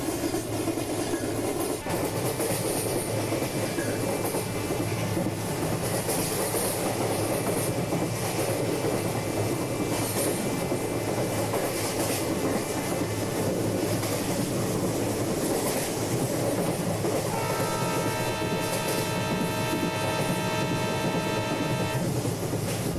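Simulated Rameshwaram to Kanyakumari Express running steadily in a train game, with continuous rolling rail noise and wheel clatter and a sustained tonal whine rising near the end, with no talk.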